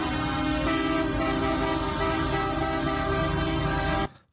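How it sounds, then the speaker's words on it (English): Loud, continuous car and tractor horns blare together during a tractor convoy protest heading to the European Parliament. The honking is dense and sustained for several seconds, then cuts off abruptly near the end. "That honking is loud."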